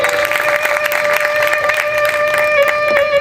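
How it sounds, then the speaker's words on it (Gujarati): A live audience in a balcony claps together at a folk storytelling (dayro) program, dense loud applause sustained throughout, with a faint tonal hum beneath. "છેલ્લે બાલ્કનીમાં તાળી પડાય."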